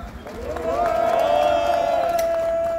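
Crowd at an outdoor press conference outside the Gwangju prosecutors' office, with loud applause and cheering swelling after a brief lead-in and holding steady, a sustained whistle or shout tone riding over the clapping.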